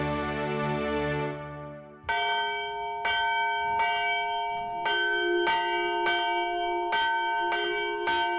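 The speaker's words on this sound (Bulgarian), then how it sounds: "Жената, която бие камбаната." Village church bell rung by hand, a series of about seven ringing strikes at a steady pace, each leaving a long shimmering decay; a different bell or tone fades out before the first strike, with no speech.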